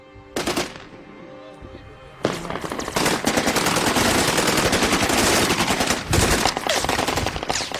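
Kalashnikov rifle fire in a firefight, bursts of automatic shots cracking loudly and close, starting sparse and then building into sustained, overlapping fusillades.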